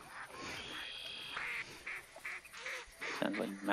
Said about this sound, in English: Sounds like mallards and black ducks.